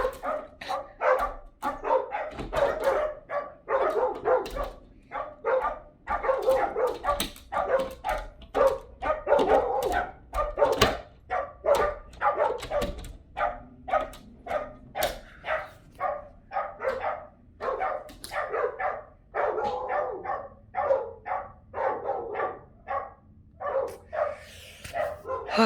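Several dogs barking repeatedly in rapid, irregular bursts, some yips and whimpers mixed in, fairly close and sustained throughout with brief pauses.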